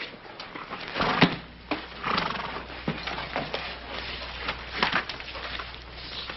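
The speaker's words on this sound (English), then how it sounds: "Take care of your horse?" A horse neighs and whinnies in a western TV drama scene, with hoof clops and shuffling around it; the sound is fairly close and recurs in short bursts through a muffled, band-limited soundtrack.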